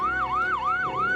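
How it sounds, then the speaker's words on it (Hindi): An ambulance siren wails in a rising and falling cycle, sweeping up and down roughly three times, loud and close with a steady engine hum beneath and no speech. "एम्बुलेंस आ गई।"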